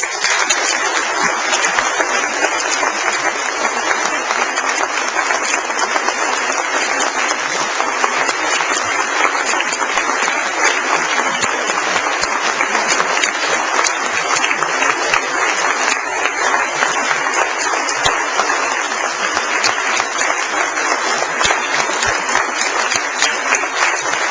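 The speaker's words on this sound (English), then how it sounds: "please join me in a round of applause for our graduating class" Sustained audience applause for a graduating class at a school senior blazer ceremony, steady and dense crowd clapping that holds at a constant loud level throughout without a break.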